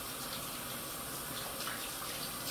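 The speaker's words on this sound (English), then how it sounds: "Let me wash my hands." Water from a kitchen tap runs steadily as hands are rinsed of raw meat juice, a constant close hiss and splash with no breaks and no voices.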